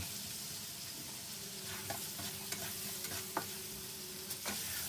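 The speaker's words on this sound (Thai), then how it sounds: "ผัดกุ้งกับกระเทียมให้หอมก่อนนะครับ" Shrimp and garlic stir-frying in a pan, a steady soft sizzle with occasional sharp clinks and scrapes of the spatula stirring, close and fairly quiet.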